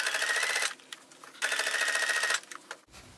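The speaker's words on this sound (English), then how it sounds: "And then I'll just start sewing again." A sewing machine stitches through fabric in two sustained bursts of rapid, even needle clatter, pausing briefly between runs, with a soft click and handling noise near the end, close and clear with no talk.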